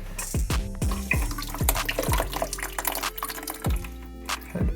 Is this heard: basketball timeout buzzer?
no